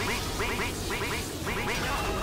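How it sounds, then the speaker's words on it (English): Repeated bonus-duck quacks from Team Fortress 2, several short bursts in quick clusters over steady game noise and a low background rumble, no talk. "All I get is bonus ducks."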